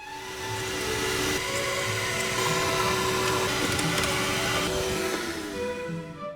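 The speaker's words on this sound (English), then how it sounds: "now you can see I can get my vacuum in there" A household vacuum cleaner with an extension hose sucks debris from a Tesla radiator, a loud, steady whooshing roar with a droning hum that holds constant and tapers off slightly at the end.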